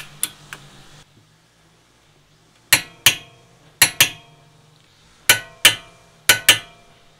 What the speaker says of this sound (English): we can go ahead and torque the back bolts